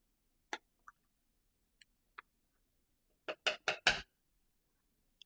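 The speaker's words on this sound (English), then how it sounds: "Now add the coconut milk. Give it a stir." A spoon stirs coconut milk into a pot of Jamaican chicken soup with red peas, giving sparse, sharp clinks against the pot and then a quick cluster of four taps near the end, close with near-silence between.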